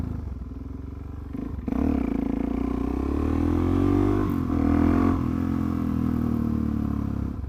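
A Suzuki DRZ400SM petrol motorcycle engine braking, its steady, loud engine note droning and shifting in pitch as the bike slows, with faint mechanical clatter throughout.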